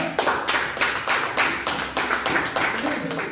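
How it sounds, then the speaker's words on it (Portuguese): Steady applause from a church congregation during a worship service, dense rhythmic clapping that swells in regular pulses and fills the whole stretch, fairly close and loud. "Você pode aplaudir o Senhor?"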